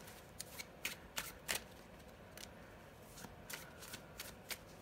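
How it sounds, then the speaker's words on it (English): Tarot cards shuffled close up during a reading, a series of quick riffling bursts and soft slaps at irregular intervals, faint and alone without talk. "Let's go ahead and get one more card for your signifier."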